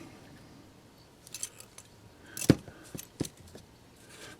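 Small cutters snipping the headlight resistor wire during a DCC decoder install in a Broadway Limited cab forward model locomotive, a few sharp clicks with one crisp snap in the middle, quiet and close.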